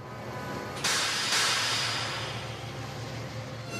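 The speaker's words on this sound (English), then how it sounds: "Whereas Mavis's brakes sound like this." Brakes of a cartoon diesel locomotive hiss in a long, steady broadband rush, with two sharper bursts of air early on before it settles and continues.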